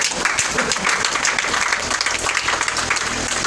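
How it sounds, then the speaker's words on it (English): A workshop audience claps during a certificate of participation presentation, a dense, lively round of applause that stays loud and steady throughout. "Clap for us, man."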